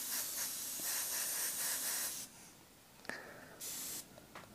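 An airbrush sprays paint in a vintage 1940s style, giving a close, steady airy hiss that stops, then comes back in short bursts.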